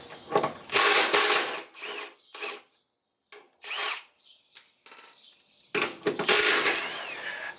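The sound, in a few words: removing subframe mount bolts on a Ford Mustang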